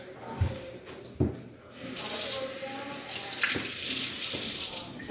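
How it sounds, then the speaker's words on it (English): Kitchen tap water runs steadily as lettuce leaves are rinsed beneath it, a broad continuous hiss with a few soft knocks and splashes near the start, close and fairly loud. "Okay, and then I'm gonna also do some lettuce. Okay. So I'm gonna rinse this."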